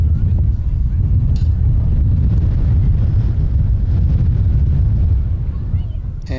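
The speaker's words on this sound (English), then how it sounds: "the gust of wind just decided to almost blow me off my perch" Loud wind gusting across an outdoor microphone at a varsity high school baseball game, a steady low roar buffeting throughout and easing slightly near the end.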